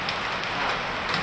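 Steady rain falling, a dense even patter close by that continues without pause or voices.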